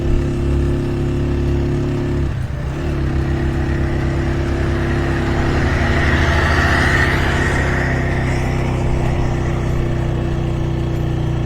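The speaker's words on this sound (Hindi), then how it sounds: "मज़ा आता है यार ऐसे रोड पे बाइक को चलाना।" Motorcycle engine running steadily at cruising speed on a smooth mountain road between Kaghan and Naran, a loud continuous drone with a brief dip in pitch early on, then constant hum with wind rush.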